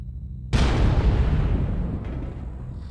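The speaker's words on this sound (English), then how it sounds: "I hear shooting." Gunfire and an explosion in a BattleTech video game match: a sudden loud booming blast erupts after a half-second of silence, then rumbles and slowly fades under continuing battle noise.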